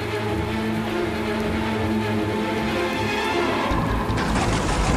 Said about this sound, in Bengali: ঝড় বৃষ্টি শুরু হয়।